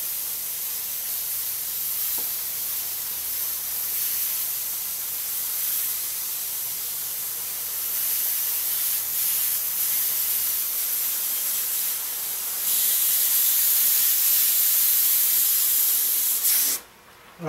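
A Grex Tritium TG3 airbrush with a 0.3 mm nozzle sprays at 30 psi, giving a continuous close, steady airy hiss that rises slightly in intensity near the end before abruptly cutting off.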